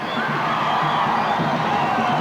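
A large stadium crowd at a 1990 Marlboro Cup football match between Uruguay and Costa Rica sends up a continuous, dense roar of cheering and shouting that stays loud throughout.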